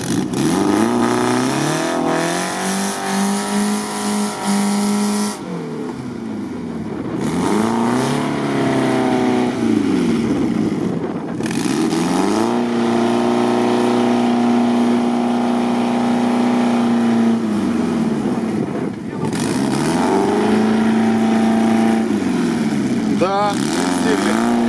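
Engine of an off-road SUV revs hard and repeatedly while stuck in a peat bog, rising and falling in loud sustained surges over a constant rumble, with people talking nearby.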